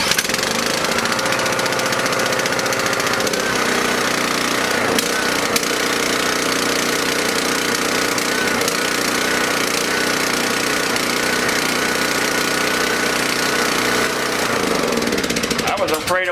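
A small engine runs steadily and loudly on ethanol-shield fuel additive after starting, a constant rattling drone throughout with a brief change near the end.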